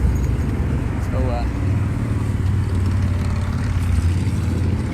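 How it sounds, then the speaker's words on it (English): Road traffic passing near a county courthouse, a steady broadband rumble of vehicles rolling by at moderate distance, continuous and fairly loud with no voices. "you hear a little bit of traffic going by"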